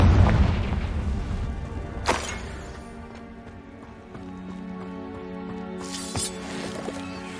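A fire blasting spell in the Hogwarts Legacy video game sets off a deep booming explosion at the start. Two sharp bursts follow, with a resonant drone of game sound in between.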